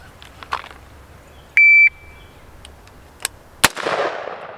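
A shot timer's electronic beep sounds once, loud and steady for about a third of a second, starting a rifle drill, with a sharp gunshot crack following later and scattered faint clicks and handling noise around it.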